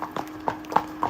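Four sharp, close hoofbeats from horses hacking through Cartmel village, a brief evenly spaced clip-clop on hard ground.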